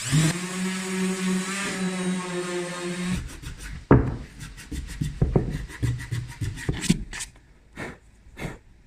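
Cabinet pieces being sanded, a steady motorized hum giving way to a run of short scraping, rubbing strokes with knocks of wood, close and fairly loud with no talking.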